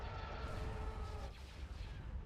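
Starship weapons fire in an Empire at War mod (Thrawn's Revenge) space battle, sustained dense rumbling bursts of laser and cannon blasts, loud and continuous without any talk.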